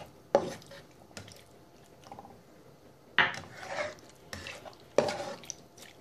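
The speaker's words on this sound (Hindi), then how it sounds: "अब इसमें हम विनेगर और सोया सॉस ऐड कर देते हैं।" Vinegar and soy sauce go into chicken vegetable macaroni in a pan, followed by stirring. A few distinct scraping and clinking strokes stand apart over a quiet background.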